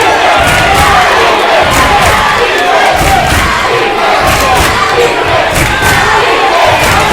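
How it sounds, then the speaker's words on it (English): Packed high school basketball gym during Velma versus Strother, the crowd roaring and yelling steadily, loud and close, with occasional thumps from the court beneath the din. "Crowd has been boisterous much of the game."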